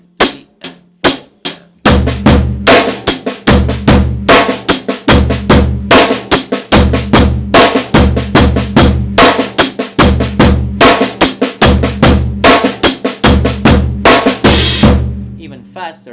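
Full drum kit plays a steady eighth-note groove, kick and snare alternating under continuous hi-hat strokes, loud and close; a few sparse hits open it before the groove settles in and runs evenly to the end.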